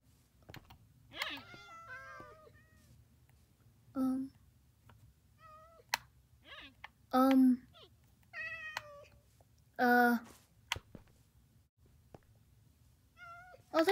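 Several cats in the video game Minecraft meow repeatedly, with drawn-out, high wavering cries at irregular intervals over a quiet background with occasional soft clicks.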